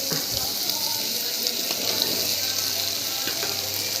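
Carrot, beans and beetroot sizzle steadily in a pan with tomato for a spiced vegetable kuruma, a constant close frying hiss with small clicks and a voice faintly underneath.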